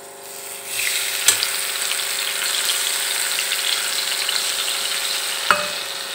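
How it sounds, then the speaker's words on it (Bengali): Spice paste poured into hot oil in a home kitchen where fish is being cooked, a loud, steady sizzle that swells after the pour and holds, with a couple of sharp clinks. "তো চলো মশলাটা ঢেলে দিই"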